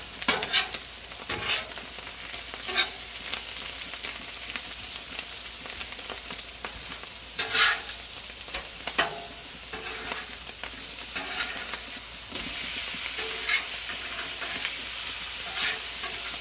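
Food cooking at high heat in a pan, a continuous sizzle with frequent sharp clicks and scrapes of stirring, growing a little louder near the end, no voices.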